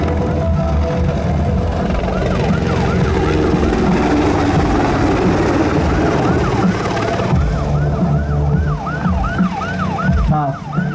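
A loud Malaysian patrol helicopter drones steadily overhead, its rotor rumble constant, while a wailing siren rises and falls in repeated sweeps toward the end.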